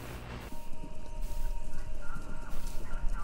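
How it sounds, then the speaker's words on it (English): A radio station in the video game Kentucky Route Zero plays galloping horses, with dense, rapid hoofbeats drumming continuously after a brief quieter start, fairly loud against a hissing background. "Sounds like horses. Horses running."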